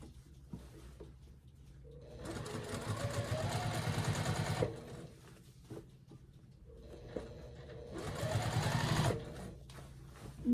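A sewing machine top stitches a summer shirt in two long, steady runs of rapid needle clatter, loud and close, separated by a quieter pause with small handling sounds.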